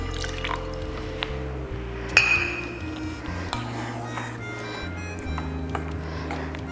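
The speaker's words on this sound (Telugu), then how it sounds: "కొద్దిగా నీళ్ళు పోద్దాం," A little water is poured into a yogurt curry in a pot, giving a brief liquid splash with a clink of vessel near the middle. Faint dripping and utensil sounds surround it.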